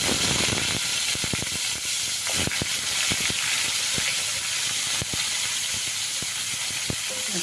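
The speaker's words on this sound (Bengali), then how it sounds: "পটলগুলো দিয়ে দিলাম এগুলো নাড়াচাড়া করে ভেজে নেব" Pointed gourd frying in hot mustard oil in a wok on a gas stove, a steady close hiss and sizzle with scattered sharp crackles and pops throughout.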